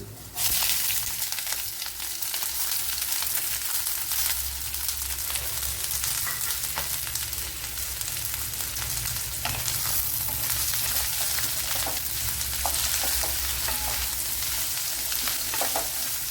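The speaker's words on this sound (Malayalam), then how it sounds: "ഇനി ഒരു വലിയൊരു സവാള ഇതുപോലെ അരിഞ്ഞെടുത്തിട്ടുണ്ട് വളരെ നൈസായിട്ടാണ് അരിഞ്ഞെടുത്തിരിക്കുന്നത് അപ്പോൾ അത് ഇട്ട് കൊടുക്കാം" A large, finely sliced onion hits hot oil in a pan, giving a loud burst of close, continuous frying sizzle that carries on evenly for over fifteen seconds with faint stirring clicks and no talk.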